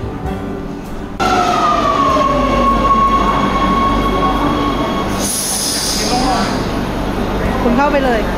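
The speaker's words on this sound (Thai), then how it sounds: "ตอนนี้เป็นบรรยากาศอยู่รถไฟใต้ดิน" A Rome subway train rumbles loudly, its wheels squealing in long drawn-out tones that shift pitch as it moves, with a hiss of brakes or doors midway and faint voices in the carriage.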